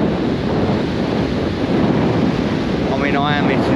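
Strong wind buffets the microphone on a Dorset beach at Southbourne, a loud continuous roar mixed with surf, and a brief voice-like warble rises near the end.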